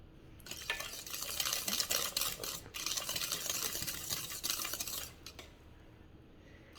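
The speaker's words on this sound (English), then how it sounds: "Now I'm going to mix this together" Eggs, vegetable oil and vanilla being mixed together in a bowl for brownie batter, heard as a brisk, continuous scraping whisk that stops briefly twice, close and fairly loud.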